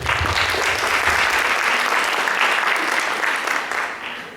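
Lecture audience applause welcoming a visiting doctor to the stage, a full, steady burst of many hands clapping that holds for several seconds, then tapers off at the end.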